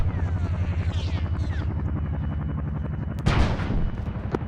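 A military helicopter in a tactical shooter video game drones steadily with a low rotor thump throughout, joined near the end by a sharp burst like gunfire or an impact, with no speech.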